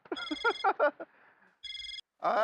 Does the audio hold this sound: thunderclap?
no